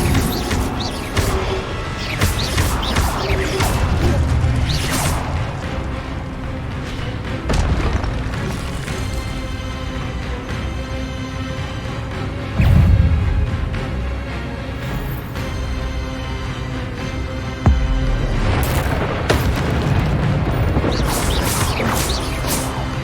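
An Incendio fire spell in Hogwarts Legacy goes off amid battle, with repeated loud booms and crashing bursts over a steady roaring rumble, and sharp impacts near the start, middle and end. There is no talking.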